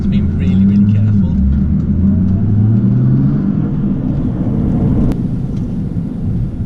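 Nissan GT-R tuned by Litchfield to 620bhp, driving and accelerating, with a loud, continuous low engine rumble and rising tones as it pulls hard, heard close from inside the car.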